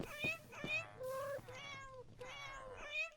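Several meows from a Minecraft cat in a video game, drawn-out and tonal, repeating at intervals with a faint background layer.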